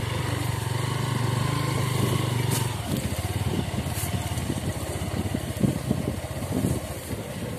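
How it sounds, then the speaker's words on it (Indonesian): A city-bike motorcycle rides a rough riverside embankment track near Kebumen, its engine droning steadily up close and then turning into a choppy, uneven rumble as the bike bounces over the rough ground. "Inilah kalau motor jenis city bike menerjang medan berat."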